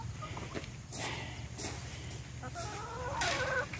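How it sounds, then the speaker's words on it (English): Backyard chickens cluck and chatter close by in short, irregular bursts, several hens calling over one another in a garden setting. "We have spoiled rotten chickens"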